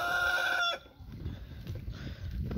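Two off-white roosters and an off-white hen in a chicken pen: a loud rooster crow that breaks off, followed by soft clucking and scratchy farmyard background noise.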